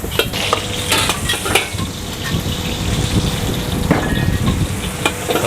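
Plain capcay vegetables and onion stir-fried in a busy restaurant kitchen wok, a steady loud sizzle with clattering stirring and scraping strikes throughout, with no talk.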